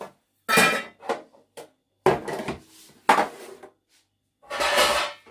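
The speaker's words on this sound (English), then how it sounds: "We have loaf and bundt pans." Metal loaf and bundt baking pans knocked and shuffled against each other, giving several short clattering bursts with brief pauses between them, close by and with no talk.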